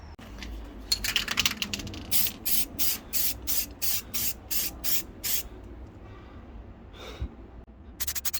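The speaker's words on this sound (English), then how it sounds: "Not the best spray technique when you're doing it left-handed while holding the camera with your right." Aerosol filler primer sprayed onto MDF in a rapid run of short hissing bursts, about a dozen close, even pulses, with a brief pause and a final burst of spraying at the end.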